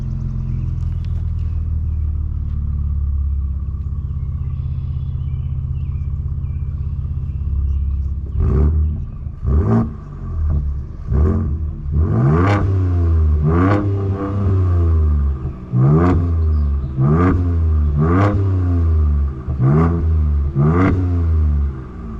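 A 2024 Ford Ranger Raptor in Baja mode idles with a low rumble, then is revved repeatedly in sharp, loud blips. The roughly ten bursts come in a quick, regular rhythm, close by, with no talking.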